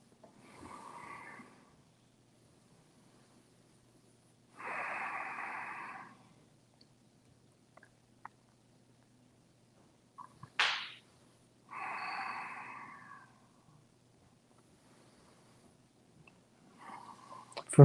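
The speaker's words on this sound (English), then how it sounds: "Breathe deep." Deep, slow breaths during a yoga session: three long, soft inhale-exhale bursts spaced several seconds apart in a quiet room, with a brief sharp sound in between and a faint breath at the end.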